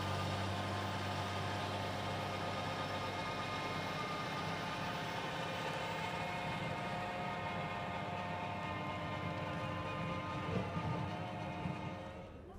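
A Fendt 936 Vario tractor working a broad field, its engine giving a steady, droning hum with a constant low tone that fades slightly at the end.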